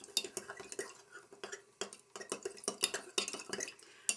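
Soldering fire coat being stirred in its small container: quick, light scraping and tapping strokes in a rapid, uneven rhythm, close and quiet.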